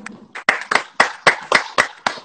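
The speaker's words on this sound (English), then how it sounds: "And applaud me." Rhythmic hand clapping, about eight sharp close claps in a loose steady beat, from a live online chat with dance professionals.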